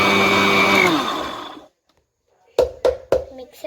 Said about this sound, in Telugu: మిక్సీ పడుతుంది